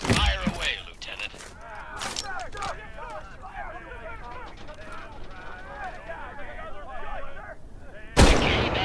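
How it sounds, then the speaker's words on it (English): Gunfire from a K98 bolt-action rifle in the VR shooter Medal of Honor Above and Beyond, with sharp shots spaced apart, including a loud crack near the start and end, over a busy battle soundscape with voices. "Now get ammo for this K98 from these ammunition boxes. Fire away, Lieutenant."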